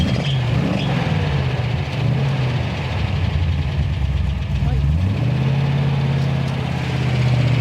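An Austin Healey V8 car idles close by with a steady, deep low rumble throughout, while people talk over it.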